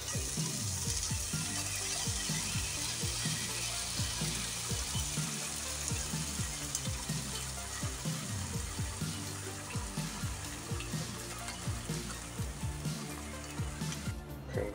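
Vegetables frying in a pan after cream and a little water are poured in for a spinach spätzle with mushrooms dish: steady, loud bubbling sizzle throughout, with soft stirring scrapes and no talking.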